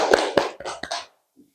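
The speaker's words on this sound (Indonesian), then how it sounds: "Oke, tepuk tangan." A short burst of classroom hand clapping, a handful of sharp, closely spaced claps in quick rhythm that stop abruptly, with a faint soft tap afterward.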